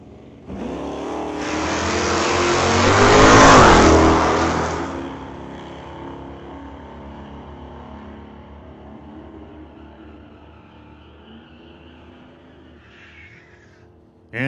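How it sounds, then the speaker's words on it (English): A 1990 Ford Mustang and a 1969 Dodge Dart launch off the line at a drag strip, engines swelling to a loud roar that peaks early, then fades into a distant, sustained drone as the cars pull away. "Brandon Piskacek in the 90 Ford Mustang against Veronica Hodgson in the 69 Dodge Dart"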